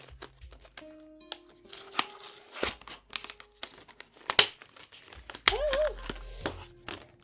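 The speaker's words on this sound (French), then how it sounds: "Je vais les ouvrir pour vous montrer si je sais les ouvrir." Plastic packaging around a set of drawing pens is unwrapped in irregular bursts of crinkling and tearing, with sharp snaps and rustles rising and falling close by, and no one talking.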